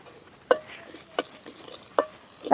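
Amirthavalli spinach leaves stirred in a pan for a kootu with lentils and asafoetida, three or four sharp scraping strokes spaced about a second apart over a faint sizzle, up close with no voice.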